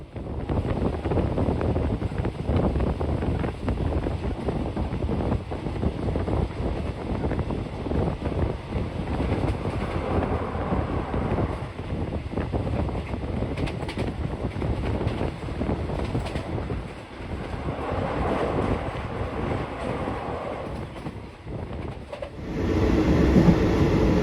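Express train 51 on Thailand's northern line between Uttaradit and Den Chai runs steadily for a long stretch, with a continuous loud rumble and rhythmic wheel clatter heard from on board.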